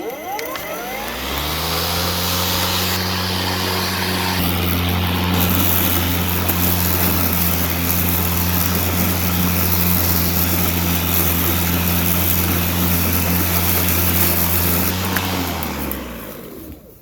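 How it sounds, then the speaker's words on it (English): An EGO LM2135SP twin-blade battery lawn mower spins up to a steady, loud electric whir with a strong tonal hum, runs evenly while cutting grass, then winds down at the end, with no talking. "It's just all around a really good mower."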